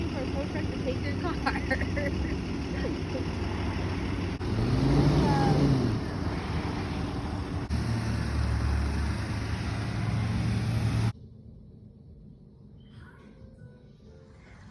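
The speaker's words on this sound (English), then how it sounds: "The only time in life will be exciting for a tow truck to take your car." A tow truck hauls off a donated car, its engine rumbling and revving as it pulls away, with voices talking over it before the sound cuts to near silence.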